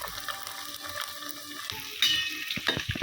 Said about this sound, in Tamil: நல்லா ஃப்ரை பண்ணிக்கணும்